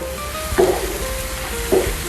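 Chopped tomatoes go into a hot frying pan for a prawn dish, giving a steady close sizzle broken by two short stirring scrapes.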